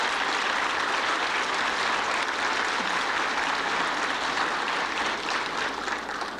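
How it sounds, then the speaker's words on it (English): An indoor audience at a lecture gives a sustained round of applause, with many hands clapping steadily and densely before the clapping thins slightly at the end. "Could we give them a special round of applause?"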